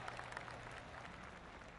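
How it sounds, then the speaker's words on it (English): Golf clap from a gallery crowd in a golf video game, faint, steady spattering applause heard at a distance with no talk. "Oh, golf clap."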